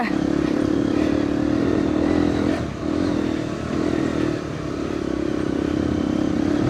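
A motorcycle climbing a slushy, muddy hill road toward a viewpoint, the engine droning steadily and loud up close with slight dips and rises in throttle, plus faint clatter from the ride.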